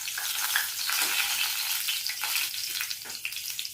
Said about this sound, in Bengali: তেল গরম হতে দিয়ে দিলাম, সরষের তেল দিয়ে করছি আজকে